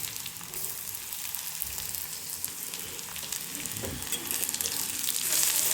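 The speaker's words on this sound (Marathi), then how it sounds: "कांदा चांगला भाजून घ्यायचा आपल्याला" Onion frying in a pan for a green chickpea bhaji gives a continuous moderate sizzle and crackle. It swells slightly louder toward the end, with no voices.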